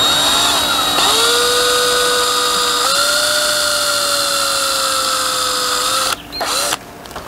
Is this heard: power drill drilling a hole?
yes